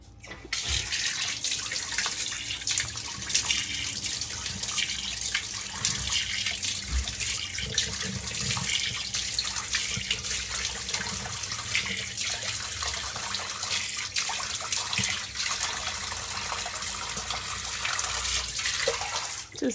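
Tap water runs continuously into a sink as a face pack is washed off. The steady splashing flow is close and even for about twenty seconds with small shifts as hands move through the stream, and nobody speaks.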